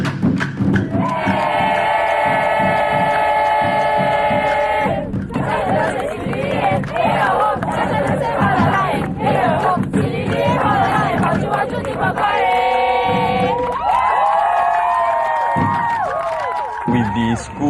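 A school crowd at a junior college's 30th anniversary chants a loud, rhythmic cheer in unison, with shouts and voices swelling throughout and a brief dip in the middle.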